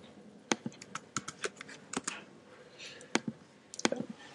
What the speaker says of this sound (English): I'm not being a very good typer this morning.